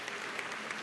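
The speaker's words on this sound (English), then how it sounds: "I just want another round of applause because it's awesome" A BlizzCon audience claps in a dense, steady burst of applause that fills the hall for under a second.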